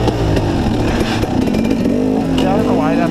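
A KTM 300 XC two-stroke dirt bike ridden on a steep trail, its engine buzzing and revving up and down steadily and close by, with a rider's voice over it.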